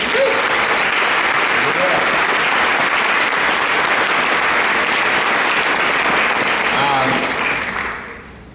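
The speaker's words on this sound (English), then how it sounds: "Let's give him a round of applause." Sustained applause from a cinema audience at a film Q&A, greeting the music supervisor. It is loud, dense clapping that holds steady for several seconds with faint voices mixed in, then tapers off at the end.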